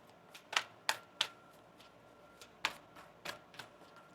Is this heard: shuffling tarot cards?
yes